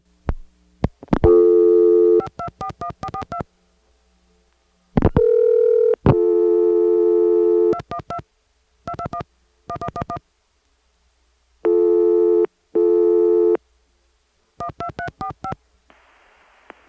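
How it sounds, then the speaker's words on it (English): Early 1980s telephone line dialing a number through a long-distance service, with bursts of loud touch-tone digits separated by pauses and a steady tone between them, then a faint tone at the end. "I'm going to dial 212-221-1111, and then an invalid authorization code"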